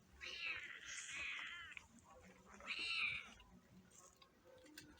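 Several village cats meow insistently as they come for fish, with two long, loud cries followed by softer, scattered mewing, heard up close outdoors among light background noise.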